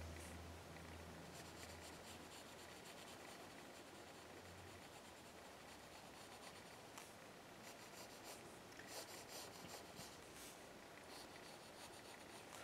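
Pencil sketches a flower on paper, a soft, continuous scratching and rubbing that carries on steadily and quietly, with no voices.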